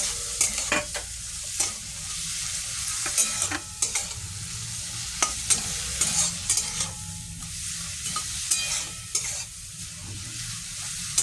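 Prawns seasoned with salt and turmeric fry lightly in a pan for a Bengali bottle gourd dish, a steady soft sizzle broken by repeated sharp clacks and scrapes of stirring, with no talk.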